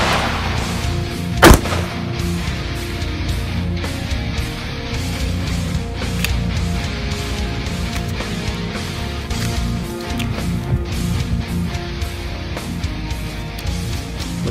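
A single sharp, loud crack of a .30-06 APM2 armor-piercing rifle round fired at a Defender Level IV rifle armor plate, standing out once against steady background noise.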